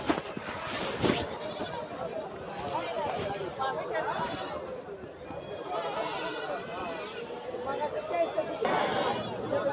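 Native goats at the Lonand livestock market bleat amid a busy crowd, with steady chatter and voices running throughout the crowded open-air scene.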